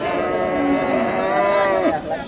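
A roughly one-year-old Friesian crossbred bull lows at a busy cattle market, a single long, loud, close moo with a falling end, faint crowd murmur behind.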